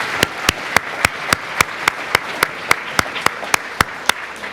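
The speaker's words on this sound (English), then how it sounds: "A round of applause for each and every person who's helped to make this party possible." Applause at a 2018 holiday party comes as steady, evenly spaced claps, loud and close, with a faint murmur of the room underneath.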